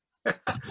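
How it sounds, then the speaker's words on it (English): A dog whimpering from upstairs in a house, two short strained whiny cries in quick succession, the second drawn out and rising at the end, heard alone and close. "Sorry about my dog screaming upstairs."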